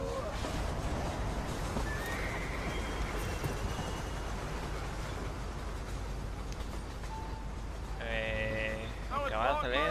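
In the Red Dead Redemption video game, a horse's hooves pound steadily under ambient game sound, with a sharp whinny breaking out near the end; a voice speaks over the scene.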